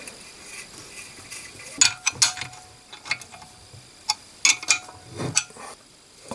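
Nuts being tightened onto the axle shaft of a 1954 Panhard Junior, with scattered sharp metallic ratcheting clicks and taps in irregular clusters, close and fairly quiet, with no talking.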